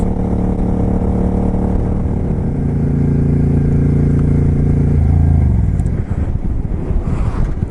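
A motorcycle engine running steadily while riding a rural road, loud and close, with a sustained drone whose pitch shifts down partway through as the bike slows, and no talk.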